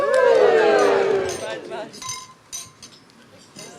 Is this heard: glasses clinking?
yes